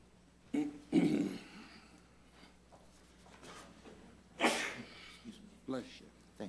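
At a county commissioners court meeting, a sharp sneeze bursts out near the start, followed by quieter coughs, throat sounds and scattered faint speech in a quiet room.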